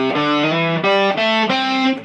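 An electric guitar plays a short run from a guitar solo, with a few sustained, overdriven single notes in close succession and no voice.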